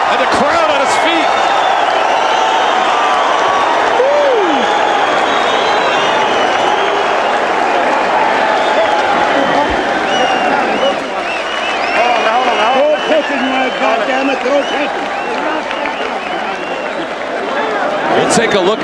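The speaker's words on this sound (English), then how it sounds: "and the crowd on his feet." A boxing arena crowd roars, cheers and applauds continuously at the close of a round in a heavyweight fight, a dense loud wall of voices and clapping with commentary talk over it.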